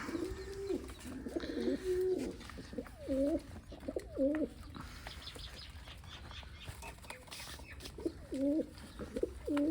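Pigeons coo in soft repeated bursts while feeding on grain, several calls spaced across the stretch, with occasional wing flutters and light background rustle.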